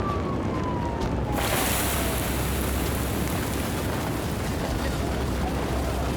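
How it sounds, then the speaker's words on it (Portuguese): A water jet sprays hard onto a burning toy house at a firefighting drill, giving a loud, steady, broadband hiss that starts abruptly and keeps up without a break. "Jato de água!"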